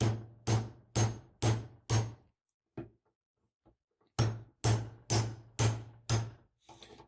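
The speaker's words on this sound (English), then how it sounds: "I'm going to take my hammer and I'm just going to tap on this and see if it starts to move." A hammer taps repeatedly on a reloading die to free a stuck cartridge case: two bursts of five sharp, loud metallic strikes in steady rhythm, separated by a quiet pause with a few faint handling knocks.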